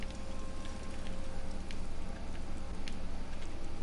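Steady rain falling in Skyrim, a dense, even hiss of drops with occasional sharper patters, continuous and fairly soft throughout, with no voices.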